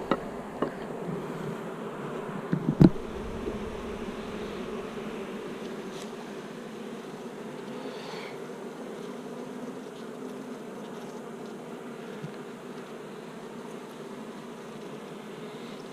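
Honeybees buzz steadily in a nuc hive while building new comb, a continuous close hum with a few sharp knocks near the start.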